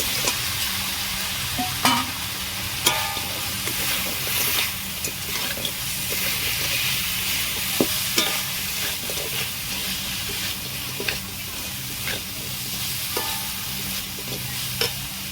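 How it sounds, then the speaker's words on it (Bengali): Crispy fried cauliflower for a restaurant-style cauliflower 65 starter is stirred into sauce in a frying pan, giving a steady close sizzle broken by repeated scraping spoon strokes and light clatters, with no talk. "এবার আমি ভেজে রাখা ফুলকপিগুলো দিয়ে দেবো"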